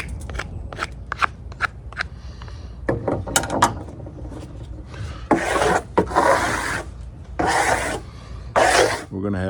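A knife shaves and rasps a spalted oak piece into a bow drill spindle, giving quick scraping strokes at first, then longer, louder rasping cuts up close, with no talk.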